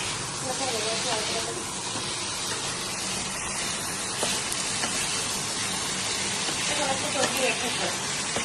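Chicken butter masala simmers in a covered pan, giving a steady, close hiss like steam and sputtering that runs unbroken throughout, with faint voices in the background.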